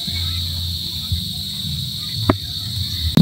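Insects chirp outdoors just after rain, a steady high drone running continuously, with a few soft knocks and a faint low murmur beneath.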